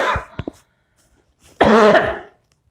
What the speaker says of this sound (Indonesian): kita batukkan berkali-kali